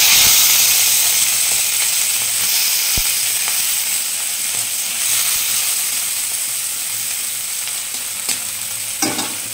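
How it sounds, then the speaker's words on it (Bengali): Prawns frying in a karahi, a steady bright sizzle of hot oil with occasional scraping and clicks of stirring, close and continuous, slowly easing in loudness, no talking. "এবার চিংড়ি মাছগুলো ভেজে নেব আমি"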